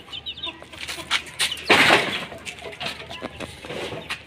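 Backyard hens raised from chicks flap their wings in a sudden loud burst mid-way, amid soft clucks and scattered rustling nearby, with occasional faint background noise.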